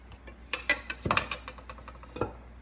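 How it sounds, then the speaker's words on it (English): Carrot cake batter stirred in a bowl, irregular clinks and scrapes of a utensil against the dish, fairly quiet and close, with brief pauses between strokes. "Mix, mix, mix. Mix them well."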